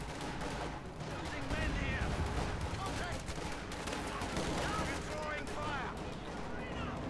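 Company of Heroes 2 assault, with scattered bursts of in-game rifle and machine-gun fire crackling at low volume beneath a commentator's voice.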